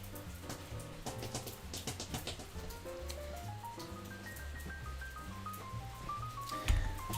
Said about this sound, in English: the background rain noise